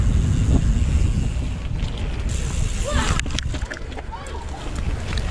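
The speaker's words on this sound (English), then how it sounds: "It's windy." Wind buffeting a GoPro Hero7 mounted on a hardtail mountain bike over rough ground, a steady loud rumble and roar running throughout with brief rattles and bumps.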